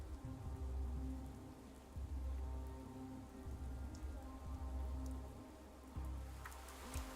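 Steady in-game rain in Pathologic 3, a dense continuous hiss of drops on surfaces with a low rumbling undertone, filling the scene at a constant level with no voices.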